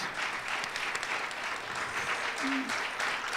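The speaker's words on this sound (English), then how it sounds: "your round of applause would be greatly appreciated" An audience at an honoring event in Brooklyn gives sustained applause, a dense, even wash of clapping throughout with a brief tonal sound midway.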